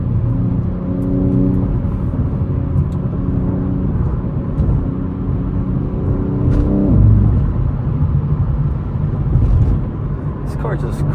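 A BMW G80 M3 engine cruises through city streets at night with a steady low rumble. Gear-shift rises and drops in engine tone come through under continuous nearby talking.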